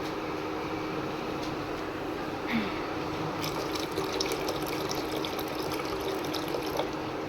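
Water being poured into a pot of sweetened milk and semai vermicelli, a steady soft liquid pouring and filling sound that runs continuously at moderate level with faint higher clinks partway through, no talking.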